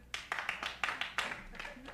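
Scattered, uneven clapping from a small part of a stand-up comedy audience, a handful of sharp claps spread over about two seconds, fairly quiet and thin.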